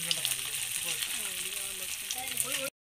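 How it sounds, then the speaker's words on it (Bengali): Oil sizzles steadily as chicken pakoras fry, a continuous crackling hiss with faint voices and kitchen sounds in the background. "এদিকে আবার পকোড়া বানানো শুরু হয়ে গেছে"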